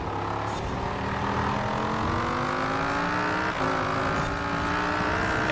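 A Pontiac Firebird Trans Am engine in Forza Horizon 4 drones loud and steady, its pitch sweeping upward through the gears with a brief dip at a shift before climbing again, no voices over it.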